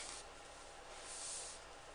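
A soft, continuous hiss of hair spray misted onto hair to set it, one long even burst lasting about two seconds, quiet and close, with no talking.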